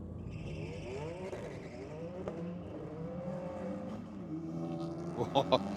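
A BMW drag car at a night drag racing event spins its tyres, a steady engine drone with rising revs and a few sharp bursts near the end, heard amid trackside announcer commentary.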